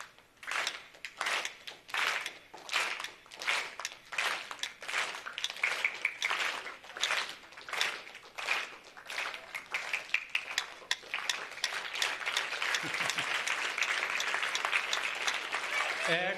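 An audience at a science-on-stage talk claps in unison to a metronome's clicks, giving sharp, evenly spaced claps that loosen into continuous, sustained applause near the end.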